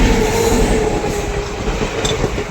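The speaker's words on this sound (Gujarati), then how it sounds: "જોવા ટ્રેન જાય છે." A train rolls past close by, with a loud continuous rumble of wagons and wheels and a brief metallic squeal near the end.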